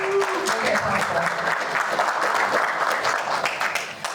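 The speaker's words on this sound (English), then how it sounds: "let's give a round of applause to" Steady audience applause at a business coalition meeting, filling the room for several seconds as a thank-you to the meeting sponsors, with a faint voice briefly audible beneath it.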